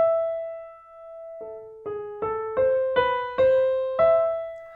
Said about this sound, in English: if I were to play just the melody starting in measure 3